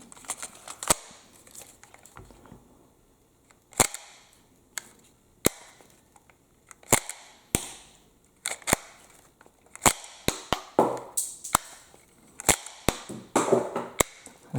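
A Judge Dredd Lawgiver replica pistol fires a string of sharp, loud cap-like cracks at irregular intervals, and a quicker cluster near the end is mixed with clattering as spent casings are ejected.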